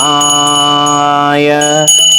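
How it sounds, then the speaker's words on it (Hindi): Brass puja bell rung at home during tilak worship, a loud sustained ringing tone with bright overtones that holds steady for about two seconds. "इसलिए जब तिलक करें तो घंटी अवश्य बजाएं"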